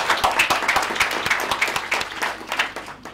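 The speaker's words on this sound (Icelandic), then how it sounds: "Gefum gott klapp hérna borðinu." Audience at a coastal heritage conference breaking into applause, a steady dense patter of many hands clapping close by, continuing alone for a few seconds and tapering at the end.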